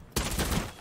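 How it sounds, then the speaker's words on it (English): In Rainbow Six Siege, a rapid burst of gunfire is fired through bullet holes, coming as a sudden loud, close volley of shots that lasts under a second. "I'm gonna shoot through those bullet holes now"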